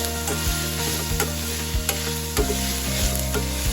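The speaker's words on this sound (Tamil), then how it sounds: "போட்டு அதை கிளறினோன்னா அந்த வெங்காயம் கொஞ்சம் சீக்கிரம் வதங்கிட்டு இருக்கும்." Onions sizzle steadily in a hot pan while a utensil scrapes and stirs, with intermittent clinks against the metal, close and alone.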